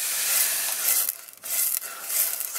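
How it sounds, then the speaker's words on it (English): Food sizzles and is stirred in a hot pan while making Moroccan kefta kabobs, a steady close frying hiss broken by brief scraping dips as the spoon moves through. "Stir it in, stir it in."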